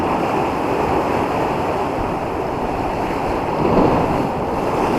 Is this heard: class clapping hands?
no